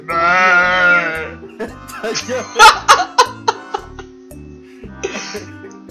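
A person's voice imitates a goat with throat cancer: a long, wavering, strained bleat, then raspy coughs, choked sputters and snickering laughter, with a few shorter bleats near the end.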